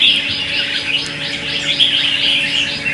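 A caged, wild-caught red-whiskered bulbul sings a steady stream of clear, high chirps and warbles, close and fairly loud, with no talking.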